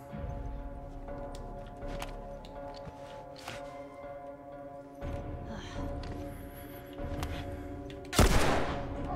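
Scattered gunfire in The Last of Us, sparse muted shots over a busy game soundscape with ticking and mechanical clicks, ending in one loud, close blast near the end.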